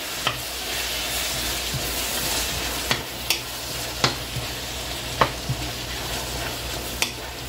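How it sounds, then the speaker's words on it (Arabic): Peppers and onions stirred as they fry in a pot: a steady close sizzle with sharp scraping clicks from the spoon every second or so, no talking. "غير يدبلوا، غير باش يحيد منهم داك الماء. صافي صافي غنبدا نحرك."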